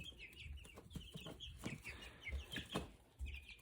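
Young chicks around five weeks old cluck and chirp in a quiet, irregular series of short calls nearby, with no talking.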